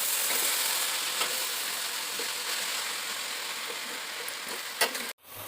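Drumstick leaves (sajna saag) frying in a pan give off a steady, close hiss and crackle that runs continuously with a few sharper pops, then cuts off abruptly near the end.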